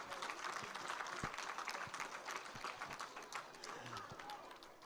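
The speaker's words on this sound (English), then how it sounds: "I think we need to give them a big round of applause." An audience at a Diwali celebration gives its organizing committee a continuous round of applause, with thick, steady clapping that sounds somewhat distant and subdued throughout.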